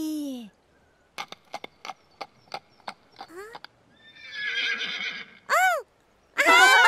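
A Teletubby voice imitates a horse, whinnying, then clicking out a clip-clop rhythm, followed by a breathy noise and two more high, wavering neighs, close and loud.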